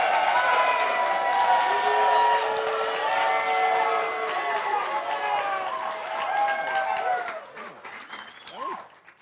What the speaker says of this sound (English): let's hear applause for Ben